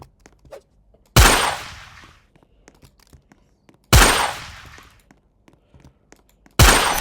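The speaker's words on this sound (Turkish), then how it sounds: "Yine headshot. Kafadan vurdum." Three loud, close gunshots ring out at even intervals in a Roblox assassins-versus-sheriffs duel game, each a sharp blast with a decaying tail, with faint clicks and game sounds between.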